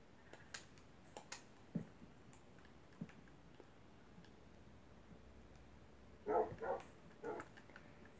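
A dog answers a counting game with a few short barks near the end, a brief cluster of two or three close, fairly loud woofs after long quiet stretches with faint ticking and clicks.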